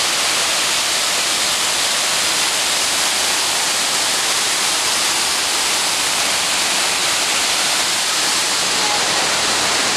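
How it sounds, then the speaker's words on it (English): A waterfall on Maui's Road to Hana roars in a steady, dense wash of falling water, heard close and loud with no break for the full length. "One more shot of the waterfalls."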